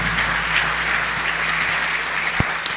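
Audience clapping at a jazz festival trio concert in Yecla, a sustained even patter of many hands filling the room, with a couple of sharp knocks near the end.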